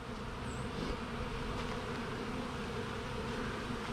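A honeybee swarm buzzes in a dense, continuous drone, steady and fairly close throughout, with no voices.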